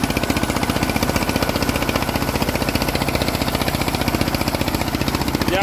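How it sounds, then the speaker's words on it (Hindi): Eicher 241 tractor engine in Haryana, a steady rapid knocking chug of a running diesel, close and even in rhythm, with no voices over it. "ट्रैक्टर देखे चाला भाई आइसर 241"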